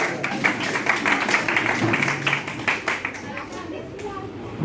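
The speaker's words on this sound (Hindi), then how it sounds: "इसके लिए एक बार और जोरदार तालियां" A crowd at a formal gathering gives a loud, sustained round of clapping that rises dense and steady, then thins out, with chatter and voices mixed in throughout.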